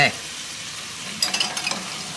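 Shrimp dropped into chili paste frying in a pan for kerabu fried rice, a steady close sizzle that jumps louder with a few sharp crackling bursts as the shrimp go in, no voices.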